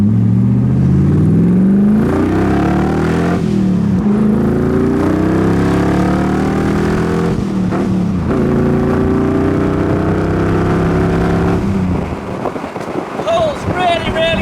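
RPi-tuned 3.5 litre V8 in a Cobra roadster accelerating hard on an open road, engine note climbing steadily through the gears with wind rush, loud and close, easing off near the end.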